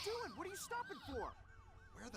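An ambulance siren from the Driver San Francisco video game wails in rapid, sweeping yelps that rise and fall repeatedly, fairly faint against a low engine rumble, with a voice speaking briefly near the start.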